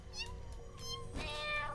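A glitchy cat head in the game Satisfactory meows a few times in quick succession, close and clear, with faint electronic background tones behind it.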